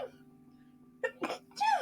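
A person sneezes three times in quick succession, close and fairly loud, over a low steady electrical hum.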